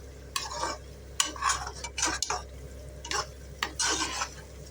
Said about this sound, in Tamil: ரைஸை இதோட போட்டு வதக்கலாம் இப்போ இதை போட்டுட்ட பிறகு கொஞ்சம் ஹையில் வச்சு வதக்கலாம்